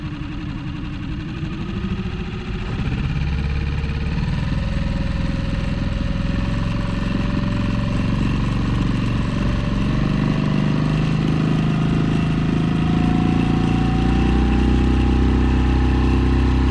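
A dinghy's outboard motor idles steadily nearby, a low continuous rumble with a faint tonal whine that shifts slightly in pitch, with no voices.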